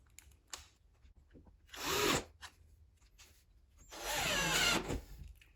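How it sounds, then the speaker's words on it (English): A power drill whirs in two bursts, each spinning up and winding down as a screw drives in to attach a sliding closet door floor guide, with quiet handling noises between them. "So I'm going to attach it with the screws now."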